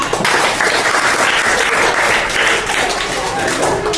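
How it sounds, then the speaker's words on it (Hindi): Schoolchildren at a government school in India clapping loudly, a close, vigorous burst of many small hands that stays strong and steady, with a few voices mixed into the din. "इनके लिए जोरदार तालियां"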